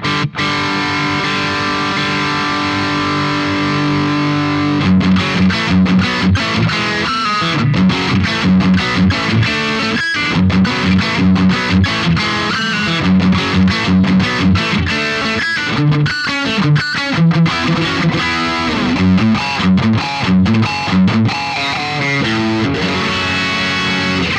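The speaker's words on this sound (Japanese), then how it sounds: "結構アンプ単体でも歪みますよねこれぐらいやればゲイスイッチハイにしてゲインも80とかにすれば" An electric guitar played through a BOSS GT-1000 amp model with the gain switch on high and gain near 80 churns out thick, saturated high-gain distortion, with sustained chords and chugging rhythmic riffs, loud and continuous with no talk.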